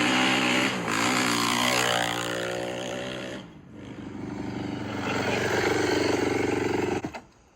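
A Honda CR500 two-stroke dirt bike is ridden hard down a driveway, its engine revving up and down loudly and sweeping in pitch before cutting off abruptly.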